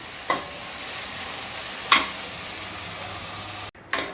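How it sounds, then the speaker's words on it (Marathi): Chopped onion sautéing in oil for a Marathi forest-greens bhaji, a steady soft sizzle with a few light scrapes of a spoon stirring the pan. "कांदा चांगला परतवून घ्यायचा, 2-3 मिनटं चांगला परतवून घ्यायचा।"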